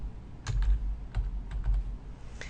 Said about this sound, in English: So I'm just going to click in this field and type the numbers that I see here.